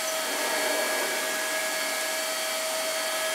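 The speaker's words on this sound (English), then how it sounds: "Now you're vacuuming." A vacuum cleaner runs close by with a steady, bright whine and broad airy hiss, holding an even pitch from start to finish with no talk over it.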